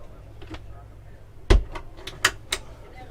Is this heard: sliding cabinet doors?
yes